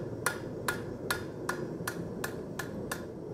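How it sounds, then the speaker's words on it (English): Eight light, evenly spaced hammer blows ring out on a steel frying-skillet blank being forged, each a crisp metallic tap over a low steady background hum, fairly quiet and close. "with just some light hammer work, we have converted that into a nicely looking forged blank"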